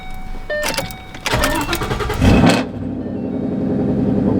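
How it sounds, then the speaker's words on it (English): A 2014 Ford Mustang 5.0 V8 starting up close by: a few starter cranks, then the engine catches with a loud roar that settles into a steady rumbling idle. "We're just basically gonna fire this car up, and I'm gonna hop on the two-step"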